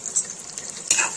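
Desi ghee and butter stirred in a hot pan for malai chicken: a short burst of sizzling hiss with a quick scrape of a spoon.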